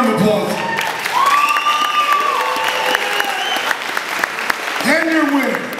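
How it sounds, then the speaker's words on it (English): Loud applause and cheering from a crowd at a boxing title fight in a prison venue, continuous clapping under an announcer's amplified voice with whistles and shouts rising near the end. "Give him a round of applause."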